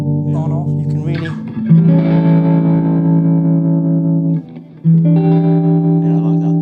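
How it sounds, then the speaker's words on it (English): An electric guitar runs through a Source Audio Vertigo tremolo pedal set to optical tremolo, with sustained notes and chords ringing loud and close and a brief dip between phrases. "the normal is an old-fashioned optical type of tremolo"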